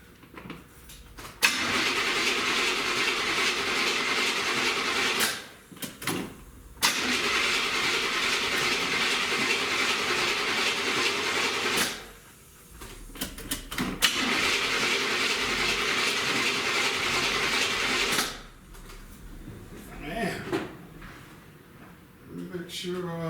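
A 1977 Buick Electra Limited, sitting for over a year, cranks over on its starter in three long, loud, steady bursts separated by short pauses, without catching.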